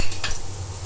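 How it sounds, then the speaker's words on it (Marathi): Onions go into a hot pressure cooker to sauté, with a metallic clatter and scrape of the utensil against the pot over a steady low hum, close and loud. "आता त्याच्यात मी कांदो टाकणार"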